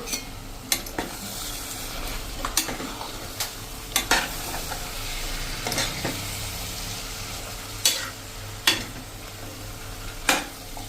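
Mixed vegetables, mostly cauliflower and potato, stirred in a sizzling pan for street-style pav bhaji, with steady frying hiss and repeated sharp spoon scrapes and clanks against the metal at irregular intervals.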